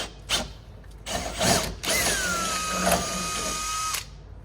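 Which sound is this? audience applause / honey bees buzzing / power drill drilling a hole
power drill drilling a hole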